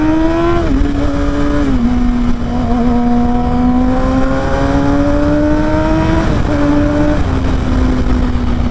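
A Yamaha R6 sport motorcycle's engine drones steadily while riding, its pitch climbing and dropping through several gear changes, loud and close with constant wind noise and no talking.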